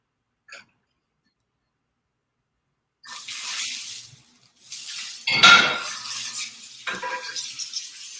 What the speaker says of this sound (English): I'm gonna add some coconut oil into my pan here.